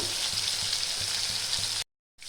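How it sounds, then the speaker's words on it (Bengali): Rohu fish pieces, turned over to cook the second side, fry in hot oil with a loud, even sizzle that cuts to brief silence near the end before resuming. "এই পিঠটাও ভালো করে ভেজে নেব।"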